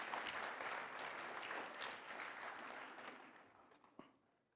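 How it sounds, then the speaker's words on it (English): Audience at the opening ceremonies of the 2016 Global Humanitarian Summit applauding steadily, a dense wash of clapping that slowly tapers off toward the end. "Let's give them a round of applause right now."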